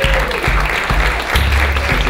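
Applause from an audience of San Diego filmmakers at an evening presentation, a dense, steady wash of clapping for about two seconds with faint low rumbles beneath.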